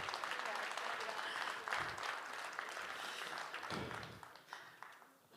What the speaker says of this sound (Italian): un applauso lo faccio per questo da spiccinar bella in costume